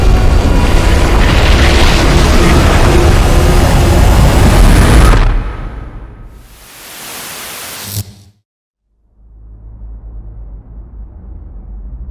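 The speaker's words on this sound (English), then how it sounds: "I like that flashback is used with the white noise cutting in and out" Bursts of broadband static hiss from a 13 Sentinels: Aegis Rim flashback scene, loud and steady, then cutting out abruptly, returning briefly, and dropping to silence before a low murmur resumes.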